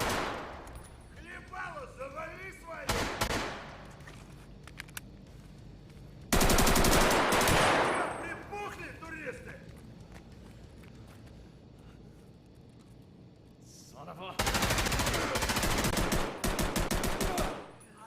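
Automatic gunfire from a firefight in the Escape from Tarkov trailer, with Bear and USEC fighters clashing near a storage room: loud sustained bursts of rapid shots separated by quieter stretches of single reports and movement.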